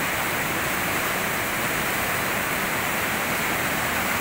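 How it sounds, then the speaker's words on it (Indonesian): Rushing river rapids on a Papua river, a steady, dense roar of churning whitewater that fills the scene continuously and fairly loudly, with no voices. "Arus yang deras."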